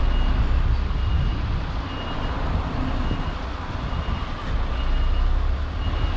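A truck backing off a busy road, its engine rumbling loudly and steadily up close, with reversing beeps faintly audible over the drone throughout.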